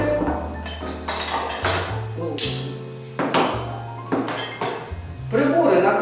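Metal cutlery, knives and forks, clinks and clatters repeatedly against a tray in quick, uneven bursts, close by, with brief pauses between handfuls.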